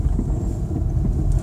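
Gusty wind buffets a microphone at a sailing spot on the water, a steady low rumble with rough surges throughout, with no voices.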